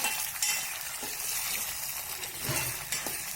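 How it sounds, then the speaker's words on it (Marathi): Fresh shravan ghevda beans sautéing in a simple garlic tempering in a pan: a steady bright frying hiss with occasional light clinks and scrapes of a stirring spoon, close and unbroken. "यामध्ये आपण श्रावण घेवडा टाकणार आहोत. परतून घ्यायचं आहे."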